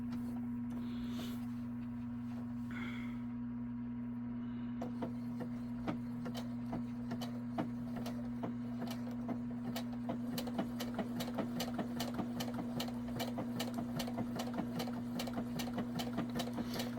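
A Brother ES 725 computerized embroidery machine stitching, heard as a steady rapid mechanical ticking over a constant motor hum. The sound is close, moderately quiet and continuous.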